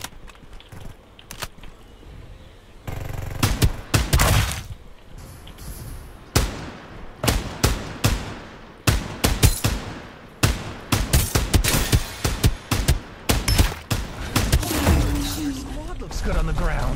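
Rapid bursts of gunfire from the battle royale video game Farlight 84, loud volleys and single shots cracking in quick irregular succession over busy in-game action, with a player's voice talking at times.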